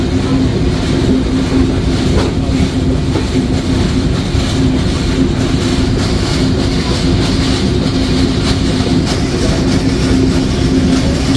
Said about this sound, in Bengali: ট্রেনটি প্রবেশ করলো জয়পুরহাট রেলওয়ে স্টেশনে।